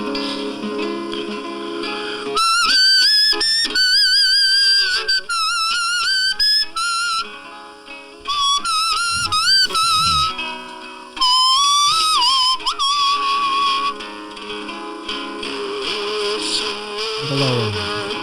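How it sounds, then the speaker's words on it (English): A man whistles a song melody on stage in phrases broken by short pauses, clear and upfront, with a musical backing beneath it throughout. "he started whistling a lot on stage"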